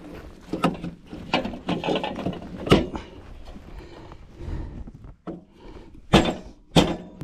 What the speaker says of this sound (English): I'm gonna go with putting the breaker in.